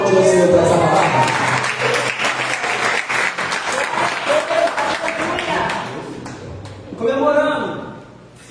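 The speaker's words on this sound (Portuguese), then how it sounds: "Você pode aplaudir o Senhor por essa palavra?" A church congregation applauds the Lord after a sermon, loud, close clapping from many hands mixed with voices and cheering, which gives way to a speaking voice near the end.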